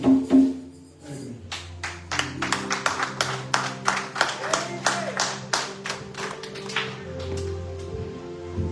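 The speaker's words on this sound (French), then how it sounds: "Nous acclamons pour la gloire de Dieu." A church congregation at a Sunday service claps for the glory of God, a crisp rhythmic run of hand claps close by that settles into a steady beat over faint music, with voices heard at the start.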